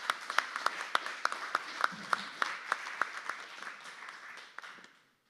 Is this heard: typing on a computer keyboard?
no